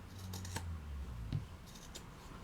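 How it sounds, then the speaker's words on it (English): Scissors snip through fabric, trimming away seam bulk while sewing a Kindle case: a few quiet, crisp cuts spaced out over a low room hum, with no talking. "I'm just taking off some of the bulk that's going to otherwise end up in my"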